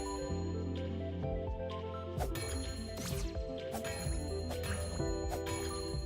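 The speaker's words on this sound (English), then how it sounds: "All the bells sound the same." Bells chime in the game Tunic, a bright ringing tone struck several times over layered droning game music, clear and fairly loud, with no voices.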